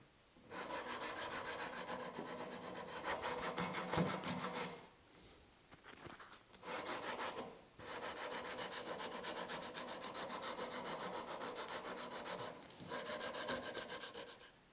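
Long rhythmic strokes of a hand saw rasping through wood, in several extended bursts with brief pauses between, loud and close.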